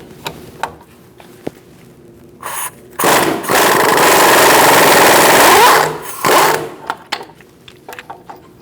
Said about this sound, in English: I'm going to use my impact gun to loosen it up